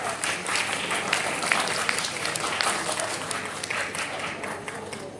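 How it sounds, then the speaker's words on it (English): A school audience applauds a senior-category award winner at a school event, dense sustained clapping from a crowd filling the whole stretch at steady loudness. "Please give a big round of applause"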